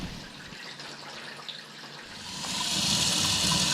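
Cold water gushing from an opened tap in a house supply system, a steady rushing stream that swells louder after a brief quieter start.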